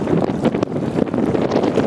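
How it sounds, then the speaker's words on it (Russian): Strong southerly wind buffets the microphone at a dune fishing spot, a steady loud rumbling roar with gusty swells and no voices. "ветер дует в левое ухо"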